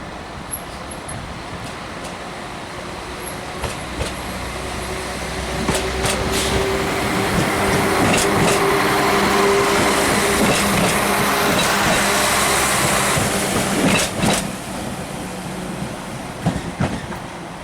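Busy rush-hour passenger trains on a Midland Main Line route in a railway simulator game, giving a steady rumbling run with clickety-clack rail joints and occasional sharper clunks, loudest midway, with no talk.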